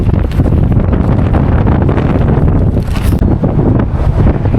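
Strong wind roars steadily across an outdoor campsite, buffeting the microphone with continuous loud, low rumbling gusts and no voices.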